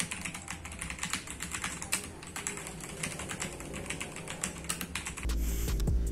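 A Rexus Legionare TKL keyboard with Otemu red switches is typed on quickly and steadily, its soft keystrokes close up and alone, with a louder, fuller sound taking over near the end.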